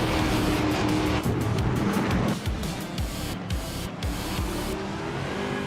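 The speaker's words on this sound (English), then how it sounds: "Direct Official is driving a 2021 Ford Mustang Datechta" A 2021 Ford Mustang race car engine in a racing video game drones steadily and loudly throughout, with a continuous rev under surging, wave-like noise and no talking.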